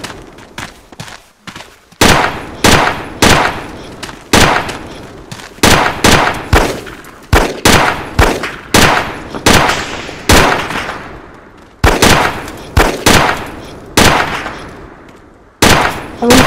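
Suppressing gunfire in the Island Life video game during a SWAT raid: a long run of loud, close shots fired in quick irregular bursts with brief pauses between volleys.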